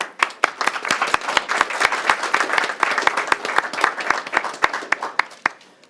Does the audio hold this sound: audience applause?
yes